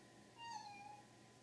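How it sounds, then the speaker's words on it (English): A house cat meows in the background of a quiet indoor room at a crafting table, giving one drawn-out, fairly faint call with no talk over it. "There's my kitty in the background down to talk to us."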